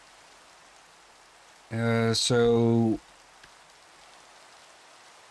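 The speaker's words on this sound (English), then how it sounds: "Yeah, and now it's even raining as well." Steady rain in Minecraft patters softly and evenly throughout, with a brief spoken voice rising over it near the middle.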